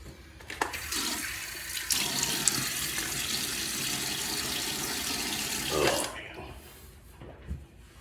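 Water runs steadily from a sink tap for several seconds while a face is wetted before a wet shave, with a few splashes and hand movements, then the flow cuts off, leaving quiet drips and a soft bump.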